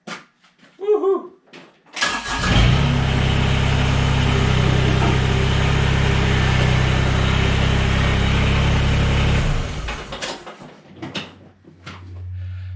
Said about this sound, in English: So I'm gonna move the tractor and stick around.